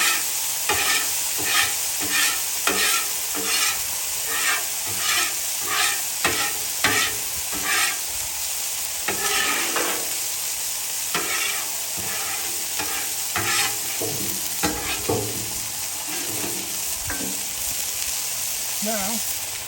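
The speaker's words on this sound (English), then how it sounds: "I'm going to give a little cleanup here." A Blackstone griddle being scraped clean beside frying smash burgers, rhythmic metal scraping strokes over a constant hiss of sizzling fat, close and loud, with a voice briefly speaking.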